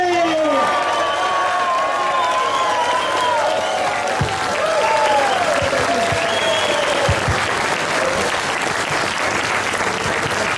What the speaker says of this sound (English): start roaring and cheering and applauding